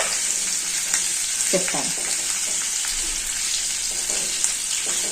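Capsicum pieces fry in a little oil in a pan, giving a continuous close sizzle with occasional stirring clinks, while someone speaks briefly over it.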